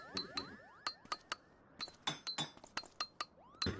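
Clinks and clanks from Final Fantasy XIV, with stone being broken up, ring out as sharp metallic and glassy taps in an uneven series, with bright ringing tails and no voices.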